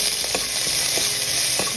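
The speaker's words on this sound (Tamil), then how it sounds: "ஒரு கடாயில் நெய், ஜீரா, வத்தல் மிளகாய், இஞ்சி, வெங்காயம் போட்டு நல்லா வதக்கிங்கோ." Onion, ginger, dried red chilli and cumin sauté in ghee in a kadai, giving a steady close sizzle with a few soft stirring scrapes and no talking.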